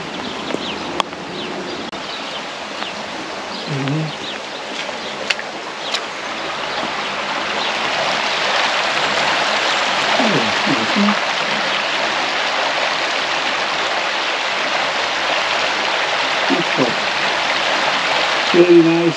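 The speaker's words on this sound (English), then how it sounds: "There's the river." A river flows past a village bridge in a snowy park, giving a steady broadband rush of water that swells slightly louder as it goes on, with faint scattered background sounds.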